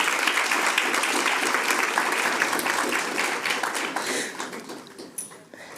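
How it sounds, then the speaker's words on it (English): Audience at a Board of Education meeting applauding a teacher, a dense steady burst of clapping from a room full of people that fades out toward the end. "Yes, go ahead, clap."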